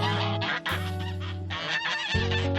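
Several geese squawk and honk harshly in a fight, loud and close, with overlapping cries and brief breaks between bursts.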